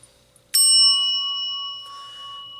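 A single bell is struck once, a bright ringing ding that sustains and slowly decays over two seconds, alone in a quiet room, with a faint clink near the end.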